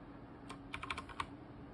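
A computer keyboard gives off a short burst of about half a dozen quick key clicks, faint and close, over a steady low background hum.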